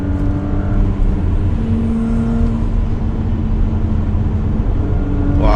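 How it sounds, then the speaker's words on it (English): A 2019 Porsche Cayenne S engine in Sport Plus mode pulls hard under acceleration, a loud, steady rising drone heard from the cabin that climbs continuously for several seconds without a break. "So when I go on Sport Plus, the engine performance is more high performance, and the gear shifts are more violent."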